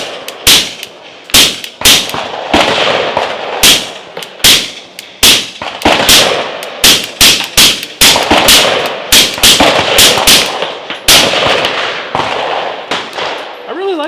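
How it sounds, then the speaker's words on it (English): Suppressed shots from an ARX rifle fitted with a Griffin Optimus silencer, many sharp reports in irregular bursts, loud and close with short ringing tails. "I'm going to go ahead and cut back to some more shooting footage, and then I'll give you some more of my thoughts on this Griffin Optimus silencer."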